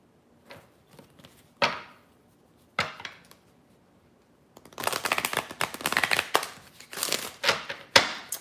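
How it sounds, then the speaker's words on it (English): Playing cards riffled and bridged in quick bursts, a few separate shuffles first, then a longer run of rapid fluttering, close and fairly loud with no talking. "I'm just shuffling cards for right now, waiting on y'all."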